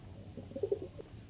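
A Ktm Teddy pigeon gives a short, soft coo, a few low murmuring pulses close by in a quiet room.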